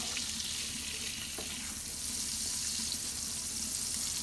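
A quarter onion frying in vegetable oil with a little butter in a pan gives a soft, steady, broadband sizzle that stays even and moderately quiet throughout.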